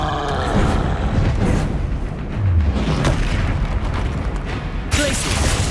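A Confringo fire spell blasting in Hogwarts Legacy amid a troll fight, loud booming roar and crackling bursts over continuous game noise, with a voice briefly heard.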